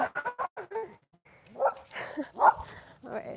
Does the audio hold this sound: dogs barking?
yes